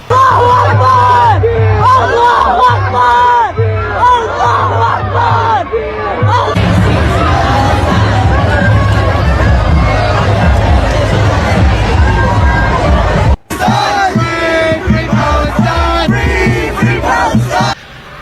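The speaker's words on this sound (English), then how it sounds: "Thousands of pro-Palestinian protesters raged in Washington, D.C. before descending on the White House, smearing the gates with red paint." A huge crowd of pro-Palestinian protesters in Washington, D.C. shouts and chants near the White House, a loud, dense roar of voices with rhythmic chanting early on and a brief cut before the crowd noise resumes.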